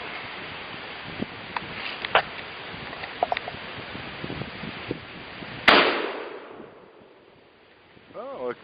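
A shotgun fires a single homemade bonded-shot shell outdoors, one sharp loud blast that rings out and decays over a couple of seconds, preceded by light handling rustle and quiet background, with brief voice sounds near the end.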